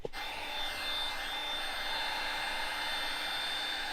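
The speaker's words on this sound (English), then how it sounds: "Where's your heat gun? We're gonna add some heat to it." A heat gun blows on a car side window, a steady close whooshing hum with a faint high whine that starts abruptly and runs unbroken and even throughout.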